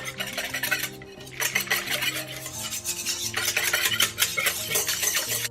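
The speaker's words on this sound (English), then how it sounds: "I'm going to whisk in 3 tablespoons of cornstarch" Cornstarch being whisked into chicken broth; rapid rhythmic whisk strokes clicking against a bowl, close and continuous, with a faint steady hum underneath.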